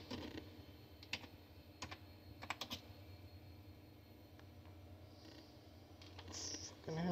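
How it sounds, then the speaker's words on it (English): Keys clack sporadically on a computer keyboard typed one-handed on an old Pentium machine, irregular single taps and short bursts close to the mic over a quiet low hum, with no voices. "Typing with one hand is weird."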